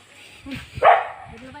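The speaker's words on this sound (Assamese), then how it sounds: "কুকুৰকেইটা ইমান চিঞৰিছে" A dog barks and yelps nearby at a family home on a cool day after rain, a couple of short sharp bursts with a louder yelp partway through, mixed with faint background voices.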